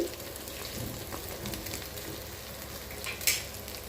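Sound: paneer frying crisp in pan

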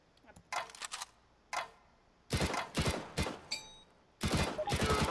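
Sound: gunshots hitting a target in Counter-Strike video game

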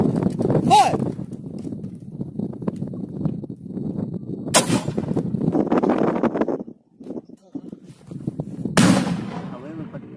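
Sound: No 36 grenade fired with rifle

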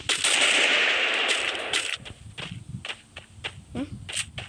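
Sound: gunfire in video game Free Fire

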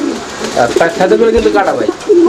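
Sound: fancy pigeons cooing

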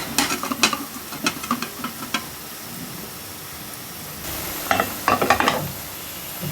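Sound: chicken frying and being stirred in a pan

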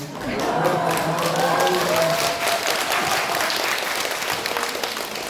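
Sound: audience applause at a concert

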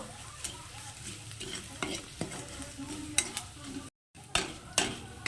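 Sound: frying ginger with chili powder and sugar in a pan

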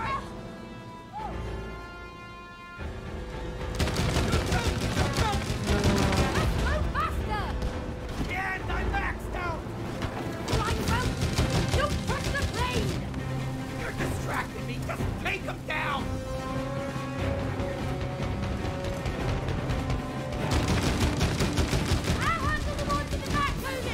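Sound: gunfire from video game

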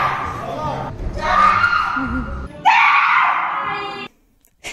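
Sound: climber's power scream in climbing gym

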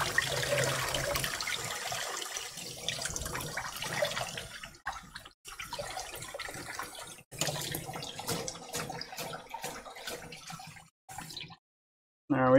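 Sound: rinsing lettuce under a running tap

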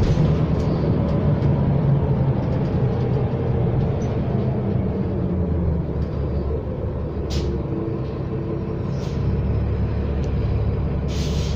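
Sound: riding on a New Flyer XD60 city bus

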